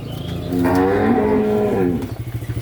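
A Brahman dairy cow, kept with her calf on a dairy farm, lets out one long, loud, close moo that swells and then fades, with quieter farm noise before and after.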